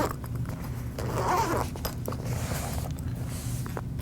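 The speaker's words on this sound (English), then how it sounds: "When you open the case, the zipper is here." A zipper is drawn open around a fabric carrying case for a Sennheiser HMEC 26 aviation headset, a close, rasping pull lasting several seconds with small rustles of handling.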